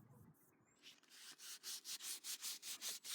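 Sandpaper rubbed along the grain of a timber handle, a quiet start followed by about ten steady, evenly paced back-and-forth rasping strokes, close up with no voices.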